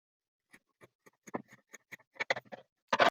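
Scissors cut through fabric for a kimono jacket in a quiet room, making a series of short, crisp snips that grow closer together and louder toward the end.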